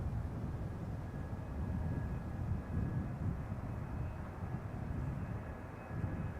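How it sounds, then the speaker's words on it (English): A KLM airliner arriving from Bonaire at Amsterdam Schiphol produces a low, continuous engine rumble, moderately distant and even in level from start to finish. "A380-200 arriving from Bonaire, KLM Flight 767"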